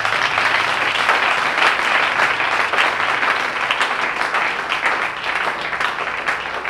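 A church congregation applauding, a dense, continuous wash of clapping from many hands that stays loud and even throughout, with little else audible.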